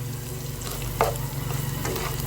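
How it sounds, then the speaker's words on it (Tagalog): Onions fry in a pan with a constant, fairly loud sizzle, and a brief scrape of the spoon comes midway as they are stirred. "Yan, nilagay ko na yung sibuyas. Maglagay tayo ng asin."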